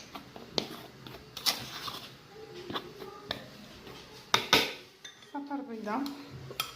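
A large spoonful of sugar is stirred in a bowl, a spoon clinking and scraping against the bowl in irregular, close taps and swishes, with faint voices in the background.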